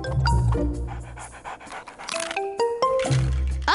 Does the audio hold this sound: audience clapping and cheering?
no